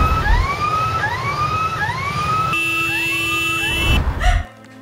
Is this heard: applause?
no